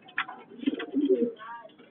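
Parent pigeons coo in a racing pigeon loft. One low, throaty bird coos close by through most of the moment.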